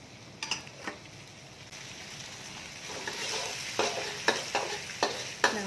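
Frying and stirring in plenty of hot oil while cooking Malaysian nasi lemak at home: a steady close sizzle throughout, with sharp scrapes and knocks of the spatula against the pan growing busier toward the end.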